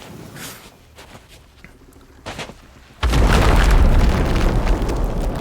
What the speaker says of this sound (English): Man, I love explosions.